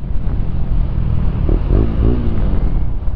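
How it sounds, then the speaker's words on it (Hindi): A KTM Duke 250 motorcycle engine runs low on fuel, giving a loud, continuous rumbling idle with a brief uneven hiccup in the middle and no voices over it. "मस्त लो फ्यूल है यार, इसलिए तो हिचकी आ रहा है"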